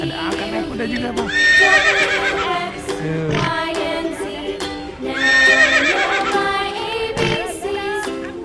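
Horse neighing and whinnying in two strong bursts during a children's horse-drawn cart ride, mixed with loud children's music and voices talking, with clip-clop hooves faintly in the background.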